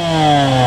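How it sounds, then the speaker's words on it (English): Two-stroke dirt bike engine running right after a first-kick start, a loud close buzzing drone with strong steady harmonics, brief and continuous. "First kick, starts right up, no choke or anything."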